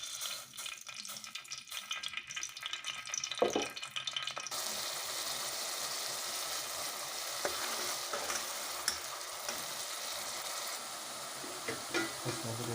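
Onion paste hits hot oil in a pan for an Andhra-style fish curry and bursts into a loud, continuous sizzle after a quiet start, with occasional stirring scrapes over the frying.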